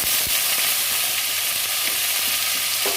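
Onion and ginger paste frying in mustard oil gives a loud, steady, close-up sizzle and hiss that runs unbroken throughout, with no one talking.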